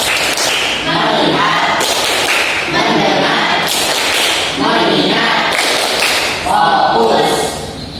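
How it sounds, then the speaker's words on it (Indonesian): A classroom of children does a rhythmic 'focus clap' game, sharp hand claps landing in quick patterned bursts across the span, mixed closely with a group chanting and a teacher's voice. "tepuk fokus."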